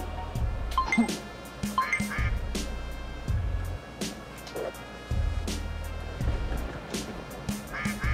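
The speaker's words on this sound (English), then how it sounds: "And I have a duck." A video game duck in Luckslinger quacks and honks repeatedly in short bursts, loud and close, over a steady low game background hum with no talk.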